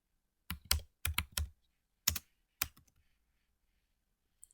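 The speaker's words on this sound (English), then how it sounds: "We will type the number of the host, it's the IP address" Crisp, close keystrokes on a computer keyboard as an IP address is entered, about nine quick taps in small clusters separated by short pauses, with near silence between them.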